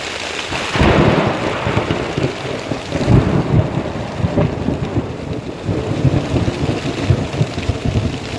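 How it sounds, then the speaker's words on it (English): Heavy rain pours steadily in the woods while deep, loud thunder rumbles and rolls through, swelling in several waves without any talking. "That thunder was crazy loud."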